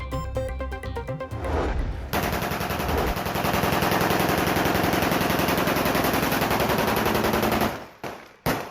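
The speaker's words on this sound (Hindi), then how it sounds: "गोलियों की तड़तड़ाहट की वीडियो सोशल मीडिया पर वायरल" Aerial firing in a residential colony, heard as rapid, loud, sustained automatic gunfire bursts that run almost continuously for several seconds, then cut off abruptly with a couple of trailing shots.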